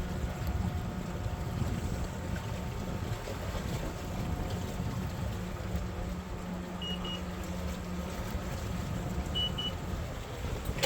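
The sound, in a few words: sailboat under sail in wind, Excess 14 catamaran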